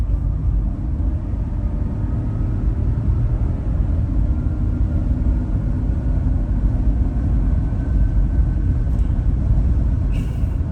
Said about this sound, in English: give it some gas so you can hear this car under acceleration on the highway